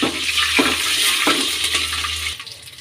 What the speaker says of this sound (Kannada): ಈಗ ಸಾಸಿವೆ ಹಾಕ್ಕೊಳ್ಳೋಣ ಈಗ ಹಸಿಮೆಣ್ಸಿನ್ಕಾಯಿ ಹಾಕ್ಕೊಳ್ಳೋಣ